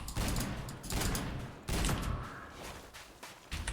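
Gunfire bursts and explosive blasts from the video game Half-Life 2 MMod, with several loud, dense volleys arriving in rapid clumps and a short lull between them.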